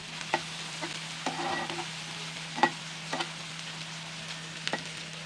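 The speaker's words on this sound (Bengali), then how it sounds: "তেলের উপর দিয়ে নাড়াচাড়া করে নিতে হবে" Mustard, cumin and chilli paste being stirred in hot oil, with a quiet steady sizzle and intermittent spatula scrapes and taps against the pan.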